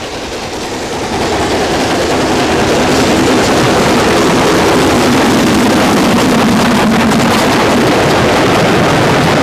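A Schools class steam locomotive working on the Bluebell Railway in Sussex, heard as a loud, steady roar of running noise with wind buffeting, continuous throughout and rising slightly after the first second.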